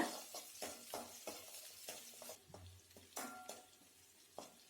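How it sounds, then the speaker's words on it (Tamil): Onions, garlic and ginger sauté in hot oil for a country chicken curry, with soft sizzling under repeated, rhythmic scrapes and clicks of a spoon stirring against the pan, close and fairly quiet. "எண்ணெய் நல்லா சூடானதுக்கப்புறம் வெங்காயம் சேர்த்திக்கலாம். சேர்த்து நல்லா வதக்கி விட்டுக்கலாம்."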